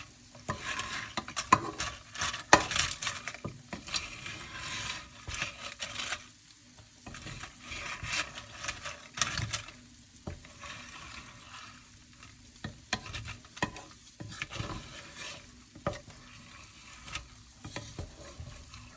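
Fried tortillas are stirred and tossed with sauce in a pan for chilaquiles, giving repeated scraping and clattering stir strokes over a low sizzle, with brief pauses between bursts.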